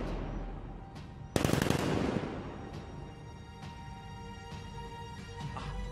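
Gunfire during a shootout in the Batman: Arkham Knight video game, a sharp dense burst of shots around a second in, then scattered single cracks over a steady background.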